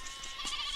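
Sheep bleat while being herded in a film scene, with a couple of short bleats rising over a busy outdoor background, moderately close.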